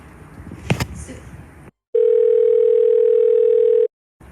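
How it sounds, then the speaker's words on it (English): A steady telephone dial tone sounds for about two seconds after a short stretch of muffled background noise and a clatter, then cuts off abruptly into silence. "let me see if I can get Amy on the phone"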